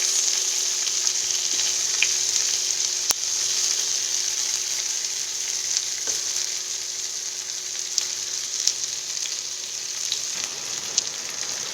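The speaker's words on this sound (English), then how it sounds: "We have to saute just when it starts getting the color at its edges." Ingredients for malai kofta gravy sauté in a pan with a steady, loud, continuous sizzle and occasional light pops and stirring taps throughout.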